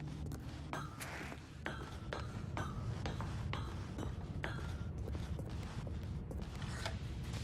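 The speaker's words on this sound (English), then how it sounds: "Stanley walked straight ahead through the large door that read Mind Control Facility." A large door opening in the video game The Stanley Parable, with drawn-out creaking and mechanical clinks beneath a steady low rumble, heard alone at moderate level.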